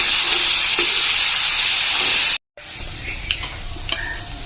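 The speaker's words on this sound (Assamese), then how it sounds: "দি এতিয়া মই 5 মিনিটমান ভাজি লওঁ।" Moong dal fries in a pan with oil, giving a continuous close hiss and sizzle, broken by a brief cut partway through and followed by a few scraping stirs.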